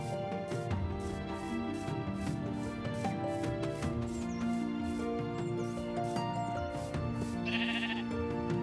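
Sheep in the video game Minecraft bleat several times over layered game music, with a short electronic tone near the end.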